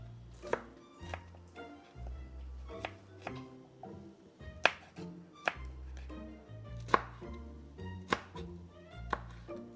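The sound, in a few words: knife chopping vegetables on a board for a Thai ajad relish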